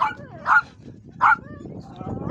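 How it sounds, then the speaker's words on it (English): A dog at a car meet barks and yips twice in short sharp bursts, fairly close, with faint background noise between the barks. "So there's a dog right there."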